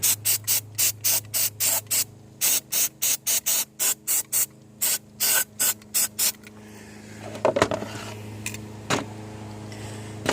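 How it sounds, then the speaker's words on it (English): Rapid bursts of an aerosol cleaner spraying Chevy Impala 3.5 fuel injectors and plenum in short, regular hisses, then a longer rough hiss with rattling handling noise, close up with no voices. "Got a good spray."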